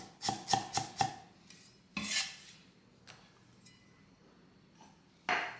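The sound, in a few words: crushing and slicing ginger with a knife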